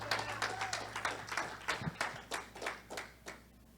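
A church congregation at a Spanish-language sermon claps, with distinct rhythmic handclaps repeating roughly every third of a second over a low hum, fading toward the end.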